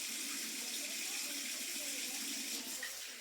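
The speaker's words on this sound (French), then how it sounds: "Tu rinces à l'eau claire" Tap water running steadily as an object is rinsed under it, a continuous soft splashing stream at close range.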